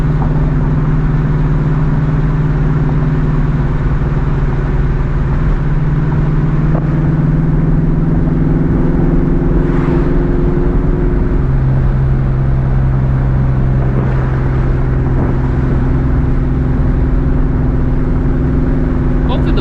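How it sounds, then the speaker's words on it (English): A 2004 Mustang GT with a loud straight-piped exhaust drones steadily while driving at night, its low exhaust tone shifting in pitch as it changes speed, with wind noise throughout. "hopefully you guys can still hear the exhaust"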